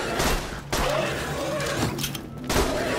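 Several loud gunshots ring out in the video game Borderlands 2, sharp bursts spaced a second or two apart with rattling noise between them.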